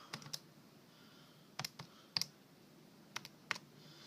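Faint, sparse button clicks come from numbers being typed on a calculator, in a few separate short bursts over a quiet background.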